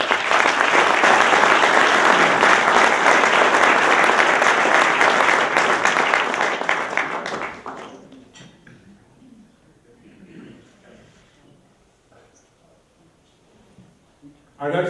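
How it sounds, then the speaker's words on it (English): Audience at an awards ceremony claps loudly and steadily for about seven seconds, then the applause fades out into a quiet room with faint scattered noise. "Let's give a round of applause to the Sun Journal."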